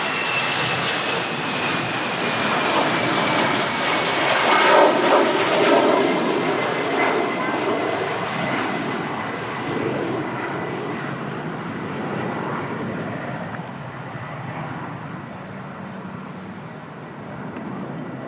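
An EasyJet airliner's jet engines at Manchester Airport produce a loud, sustained roar that peaks early and slowly fades as the aircraft moves away, heard from an outdoor spotting position.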